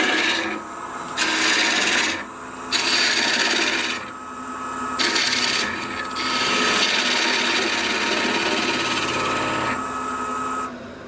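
A spindle gouge cuts across the grain of wood spinning on a lathe, giving a loud, close, raspy shaving sound that comes in repeated strokes with short quieter gaps between passes.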